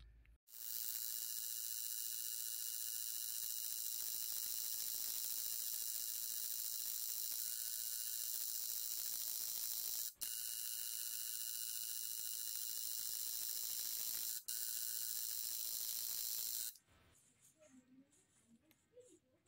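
Tattoo machine running during linework on a cover-up tattoo: a steady, high mechanical buzz and whir, close and continuous, with two brief interruptions before it stops near the end.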